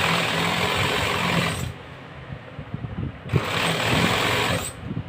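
A sewing machine stitching a fabric collar runs in two steady whirring bursts separated by a short pause, with faint clatter between runs.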